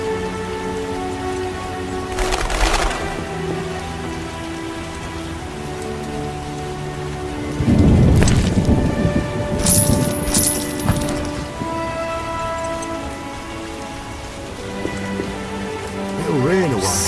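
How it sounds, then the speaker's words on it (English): Steady rain patters throughout a rainy scene in The Witcher, with a low rumble of thunder swelling partway through under game music and brief voices. "It'll rain a while."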